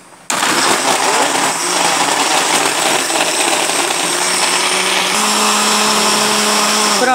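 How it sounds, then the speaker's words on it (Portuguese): A blender making pineapple juice with the peel whirs loudly and continuously after a brief quiet start, its motor pitch holding steady with a faint shift midway. "O liquidificador é bater só em segundos"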